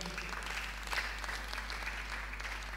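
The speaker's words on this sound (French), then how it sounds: "Acclamons d'abord pour cette parole." A church congregation applauding during a sermon, steady diffuse clapping across the whole moment over a constant low mains hum.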